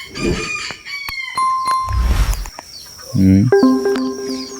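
A wild jungle fowl rooster crows close by in a rural yard, one loud full crow near the end, with short clucks and other chicken calls beforehand and a faint ringing tone in the background.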